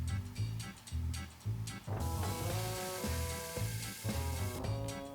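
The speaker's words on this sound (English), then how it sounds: "by cooking pasta in soda" Soda boiling with fettuccine pasta in a pot, a steady bubbling sizzle that swells and stays loud, broken by short rhythmic pulses.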